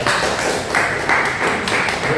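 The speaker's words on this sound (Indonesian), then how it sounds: "Tepuk tangan dulu Mas Andika" Students in a classroom give a short round of applause, a dense patter of clapping that swells in a few uneven waves, with faint talk beneath it.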